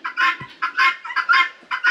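Bantam chickens cluck and chatter in quick repeated bursts, close by in a breeding coop, with brief pauses between the calls.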